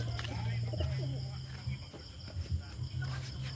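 Pigeons in a home loft cooing in low, repeated throaty phrases, close by, with crickets and other birds chirping faintly in the background and someone talking over them.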